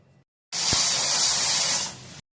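A single loud, harsh rush of steam hisses from a pressure cooker for under two seconds, then cuts off to silence.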